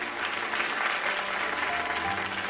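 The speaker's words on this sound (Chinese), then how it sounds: "我们也把掌声送给张老师。" Studio audience applauding steadily to welcome a guest onto the stage of a televised Chinese opera show, dense and continuous clapping throughout with no voices over it.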